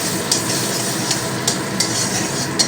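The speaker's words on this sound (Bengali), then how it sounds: "বাটারটা একটি কড়ার মধ্যে গরম কড়াটা দিলে খুব তাড়াতাড়ি গলে যাবে" Butter melting in a hot kadai (wok) while making chicken soup, giving a steady, close sizzle with a few soft clinks from a stirring spoon.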